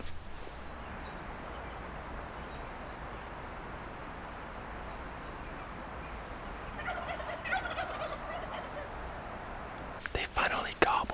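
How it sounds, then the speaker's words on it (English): Faint gobbling from wild turkeys at daybreak on a spring hunting morning carries from a distance over a steady hiss of outdoor ambience, with a brief rustle or handling noise near the end. "They finally gobble."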